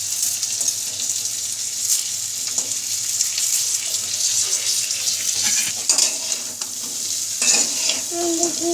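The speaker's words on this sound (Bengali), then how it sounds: "পানি অ্যাড করে দিচ্ছি।" Water poured into instant noodles frying in a pan with egg, giving a loud steady hiss and sizzle with splashing and stirring scrapes, close by and without talk.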